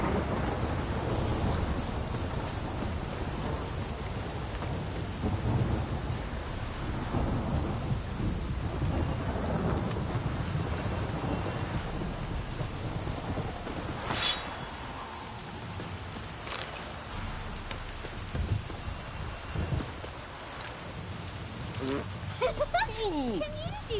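Heavy in-game downpour in The Witcher, a constant roar of rain with deep rolling thunder rumbling low through it and a few sharp cracks later on, while a voice speaks at times over the storm.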